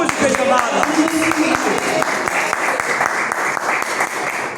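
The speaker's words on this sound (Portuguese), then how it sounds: "Cadê as palmas para Jesus, igreja amada?" Loud applause from a church congregation clapping for Jesus during a worship service, dense and sustained with sharp individual claps and crowd voices mixed in, tapering a little toward the end.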